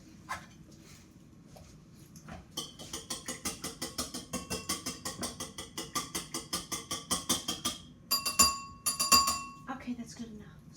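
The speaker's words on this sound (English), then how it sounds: "Here are the 2 eggs, but I think I'm going to whisk them a little bit." A whisk beats two eggs in a bowl for crepes, producing a quick, regular series of close metallic clinks that speed up and grow sharper toward the end.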